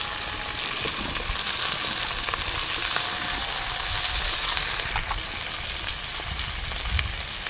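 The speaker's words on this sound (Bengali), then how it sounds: "এখন সুন্দর করে ভেজে নেব ভেজিটেবলস" Cauliflower and mixed winter vegetables fry in a pan with salt and turmeric for khichdi, giving a steady, close, loud hiss and crackle that continues without a break and with no voices.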